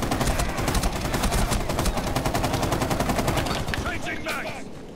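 A toy machine gun fires a long rapid burst of dense, evenly spaced shots in a 1v1 game, the stream tapering off near the end as a voice briefly cuts in.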